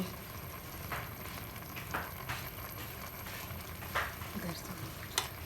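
Hot ghee sizzles and fries steadily in a pan of ilish polao, a constant low crackle punctuated by a few faint stirring taps.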